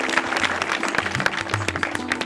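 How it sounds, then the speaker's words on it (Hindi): Studio audience applause at a Hindi quiz show, a dense steady patter of many hands clapping for about two seconds, loud and continuous without talk. "जोरदार तालियां हो जाए।"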